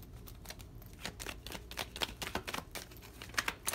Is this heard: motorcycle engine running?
no